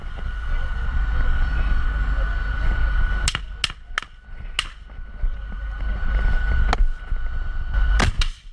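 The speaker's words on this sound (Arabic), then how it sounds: "التصق في دبابة ميركافا ووضع العبوة عليها قبل أن يعاود استهدافها بقذيفة الياسين 105" Sharp explosive cracks from a charge and a Yassin 105 shell striking a Merkava tank, several loud bangs in quick bursts and a few more spaced apart, over a steady rumbling background with a constant tone.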